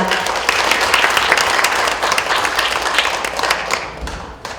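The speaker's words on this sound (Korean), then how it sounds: "다시 한번 여러분 박수를 부탁드리겠습니다." Audience applause at a book launch talk concert, a loud, dense burst of clapping filling the room, sustained and then tapering near the end, with no speech over it.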